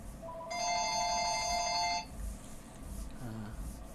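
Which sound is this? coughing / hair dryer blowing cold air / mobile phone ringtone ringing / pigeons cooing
mobile phone ringtone ringing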